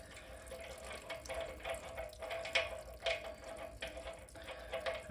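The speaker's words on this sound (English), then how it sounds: "so that's the side we want to be draining." Water drains slowly from a valve on a boiler heating system, a faint, continuous trickle and splash close by with small irregular surges and no voices.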